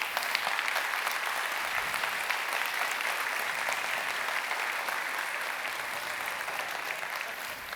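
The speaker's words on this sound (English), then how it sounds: "Keep clapping, it's a long way up." An audience at an award ceremony for a conference opening applauds continuously, a dense, even wash of many hands clapping that holds steady throughout with no pause.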